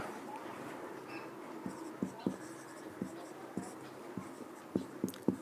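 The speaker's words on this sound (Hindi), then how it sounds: "उदाहरण के तौर पर हम लिखते हैं नवगठित" A pen scratches on paper close up, with soft strokes and taps in short irregular bursts. Quiet room tone runs under it.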